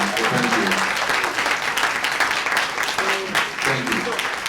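Sustained, loud audience applause for students at a school board of education meeting, dense clapping filling the whole stretch with a few voices mixed in.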